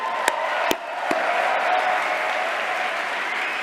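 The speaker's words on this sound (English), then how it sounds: "let's have a round of applause for the CAs who keep GDC running." An audience at the GDC game awards ceremony claps in steady, sustained applause, a dense even patter with a few sharp nearby claps at the start.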